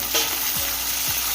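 Chopped tomatoes go into a pan of sizzling onions for a Tamil-style fish curry, with a steady close frying hiss and a couple of soft stirring knocks from the spoon.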